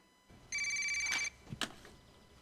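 A telephone bell rings with a bright trilling burst of under a second, fairly loud in a quiet room, followed by a couple of soft knocks as it is picked up.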